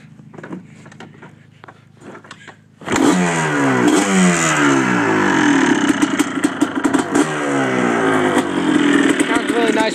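A 2002 Yamaha Blaster ATV with an FMF exhaust gets a few faint kicks, then its engine catches abruptly and runs loud and close, with a raspy two-stroke idle and repeated rising and falling revs.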